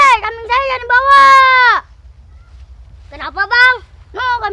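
A goat bleats in quavering, wavering cries, first a long loud call and then after a quiet pause several shorter bleats, set in a comic village scene with low background noise.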